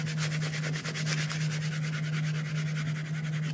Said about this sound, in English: Let me get my craft scraper and just kind of smooth it down since I lifted it.